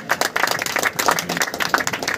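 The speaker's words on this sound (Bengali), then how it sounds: "ইমামুলের জন্য একটা জোরে হাততালি হয়ে যায়।" A small group at a pigeon club cup ceremony claps for winner Sheikh Imamul, with separate claps in an uneven, fairly quick rhythm, close and moderately loud.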